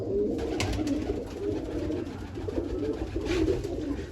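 A flock of ten or twelve released homing pigeons in rural Punjab coos in soft, repeated throaty rolls close by, with faint fluttering and clapping touches scattered through and no voices.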